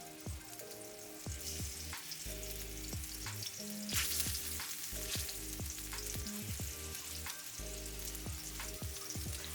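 Salmon frying in a pan, a dense, steady crackle and spatter of hot oil lasting throughout, fairly quiet and close, with no one speaking.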